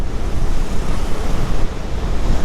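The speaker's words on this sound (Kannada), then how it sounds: "ಹೆವಿ ಗಾಳಿ ಮಾತ್ರ ಹೊರಗಡೆ" Loud, steady wind roars and buffets the microphone without pause during a motorbike ride toward Mysore, a heavy gusting rush filling the whole stretch.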